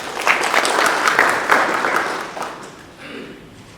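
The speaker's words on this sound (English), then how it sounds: "And give him a big round of applause, please." Audience applause at the AAERI Nepal 3rd Annual General Meeting: dense, steady clapping from a crowded hall that swells, holds for a few seconds and then fades out.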